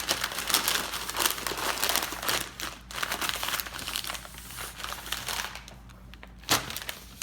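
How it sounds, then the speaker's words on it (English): Two sheets of butcher paper crinkle and rustle continuously as beef back ribs are wrapped tight for a 1971 Weber kettle, a close, dense crackling with brief pauses and no talk. "so I wrap them up in butcher paper, take 2 sheets,"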